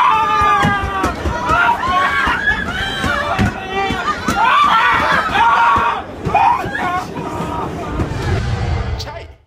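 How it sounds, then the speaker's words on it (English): Crowd of passengers shrieking and shouting in panic inside a New York City subway train as a rat runs loose through the car, with continuous overlapping screams and agitated voices throughout. "Did you see grown men screaming like babies?"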